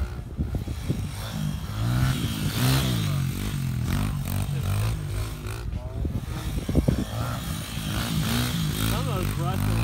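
Honda CRF 100F dirt bike riding on a dirt track, small engine revving and changing pitch as it passes, with scraping and clatter from the ground and people talking over it.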